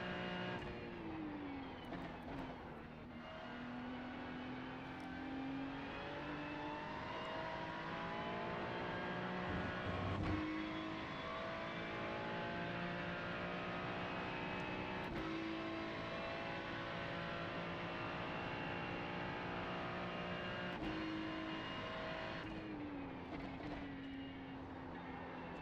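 Ferrari GT3 race car engine in a racing video game, loud and steady throughout, with rising and falling pitch sweeps as it downshifts and revs through gear changes.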